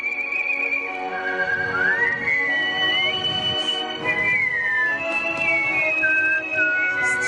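A person whistles a wavering melody, clear and close, with sliding pitches and a few short breaks between phrases.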